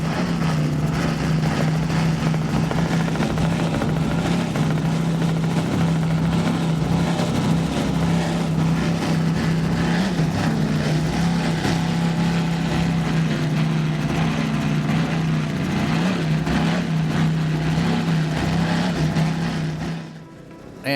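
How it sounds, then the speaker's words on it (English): A 36-foot Skater powerboat with twin Mercury Racing 700 engines cruising. It gives a steady, loud, deep engine drone with a strong low hum that holds for about twenty seconds before dropping away at the end. "36-foot skater, Mercury Racing 700s. Kind of on cruise control right now, not exactly getting on it, but sounding pretty stout"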